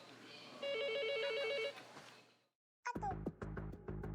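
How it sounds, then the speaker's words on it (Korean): A telephone call to a restaurant in Chungju, South Korea: a repeated electronic trill rings for about a second, then silence, followed by someone speaking. "충북 충주의 음식점에 걸려온 한 통의 전화."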